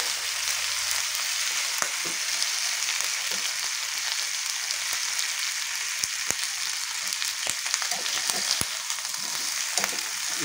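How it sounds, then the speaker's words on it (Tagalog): Chicken feet frying in a pan, a steady dense hiss of sizzling oil with scattered sharp pops and crackles running throughout, close and continuous with no talking. "Sunod, pagluto na ito, chicken feet."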